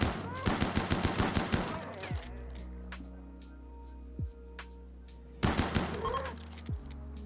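Rapid bursts of automatic gunfire from a Rimworld battle, a dense rattling volley at first and then scattered lone shots, with another burst toward the end.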